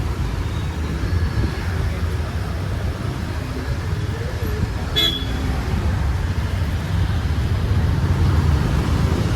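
Dense traffic rumbles through a narrow lane on a trip from Jillaguda to Uppal, with a steady low engine drone and a short clear horn toot partway through, no one talking.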